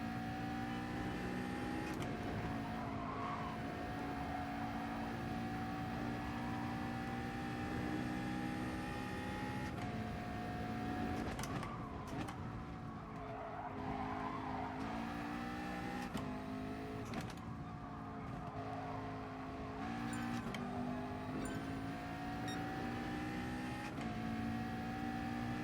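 A race car in Gran Turismo Sport laps a daytime FIA warm-up session, its engine note rising and falling steadily through gear changes and braking, with quick dips in pitch and no talk over it.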